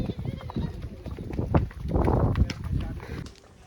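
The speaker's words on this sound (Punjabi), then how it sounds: "ਮੱਝਾਂ ਕਰਦੀਆਂ ਨੇ ਅੰਦਰ" Buffaloes are herded into a shed at a farm in the evening, their hooves clopping and shuffling irregularly at close range, with some rustling and a few brief background sounds.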